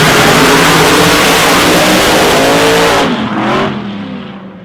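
Drag racing cars launch at a raceway with a deafening, sustained engine roar that holds full blast for about three seconds, then drops away sharply as the cars pull into the distance.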